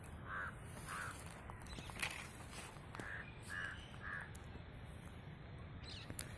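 Crows caw in a quiet open area of Baner, Pune, near a temple: about six short harsh calls spread across the stretch, moderately near, over a steady low background hum.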